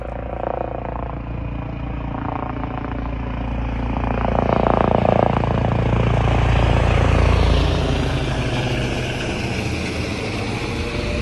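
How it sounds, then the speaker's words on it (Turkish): A helicopter sets down on a snowy village landing strip in Diyarbakır, its rotor and engine roar a broad, continuous wash that swells louder in the middle before easing off. "Şu an helikopter piste iniş yapıyor."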